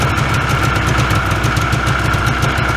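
A 1994 Yamaha Vmax 600 two-stroke snowmobile idles on its first start after summer storage, a loud, close, steady low putter with a fast even pulse and a droning mechanical whine above it.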